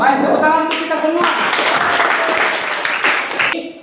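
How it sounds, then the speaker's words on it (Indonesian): Students in a classroom applaud together for a few seconds, a dense burst of clapping over a teacher's voice, fading near the end. "tepuk tangan untuk kita semua"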